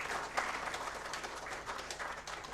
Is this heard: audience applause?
yes